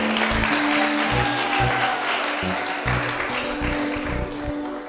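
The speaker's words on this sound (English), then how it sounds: "Let's give him a round of applause." Audience applause at a preparatory school graduation and prize-giving ceremony: a steady, dense wash of clapping fills the whole stretch at a constant level, with a low tonal hum or music running underneath.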